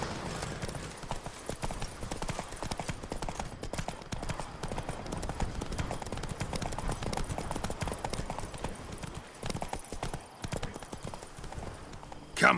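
Horse hooves clip-clop steadily at a gallop in the Witcher 3 video game, with game voices speaking over the rhythmic hoofbeats and a brief whinny near the end.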